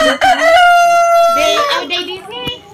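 A hen close by gives loud, drawn-out clucking calls: one long, sustained squawk followed by a few shorter, broken notes.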